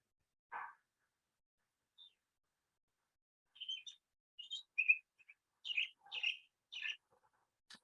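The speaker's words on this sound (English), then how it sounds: "If you hear a song that's got all the repeated notes, song thrush." Song thrush song, a series of sharp, bright chirped and whistled phrases with repeated notes, coming in quick clusters after an isolated note, moderately faint and distant in an otherwise quiet outdoor setting.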